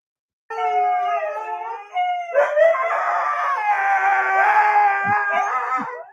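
A dog howling loudly, played back from a recording, with long wavering drawn-out howls and harmonics, one pitch shift midway and a few brief lower yelps near the end, no talking over it.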